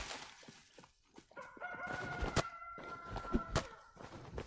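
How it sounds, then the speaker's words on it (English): Rooster crowing in the farming life-sim game Palia, a drawn-out crow with harmonic tones over a busy bed of game ambience and clucks, punctuated by sharp clicks. "I don't know why the rooster crows at 3 a.m."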